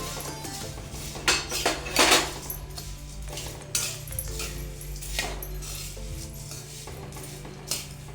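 Lentils, sago and poha dry roasting together in a pan, with a utensil scraping and clinking against the metal in irregular bursts over a low steady hum, close and fairly quiet.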